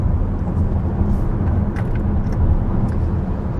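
A 2023 VW ID.4 AWD electric car drives along, a smooth, steady low road rumble with a soft whoosh of passing air and no engine note.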